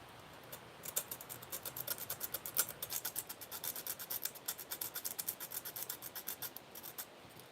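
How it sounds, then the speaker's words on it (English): Hand sanding of a workpiece: quiet, rhythmic scratchy strokes repeat about twice a second, close and alone, with no voices. "Sanding, I need to sand this a little bit more."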